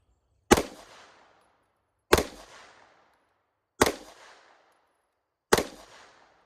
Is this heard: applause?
no